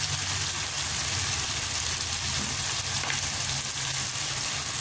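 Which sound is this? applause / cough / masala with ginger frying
masala with ginger frying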